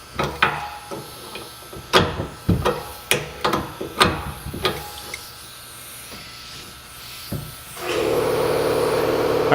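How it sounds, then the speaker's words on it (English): Scattered knocks and bangs from a garage workbench give way to an air compressor kicking on, a sudden steady loud hiss and motor drone that starts near the end and continues without pause. "Compressor kicked on."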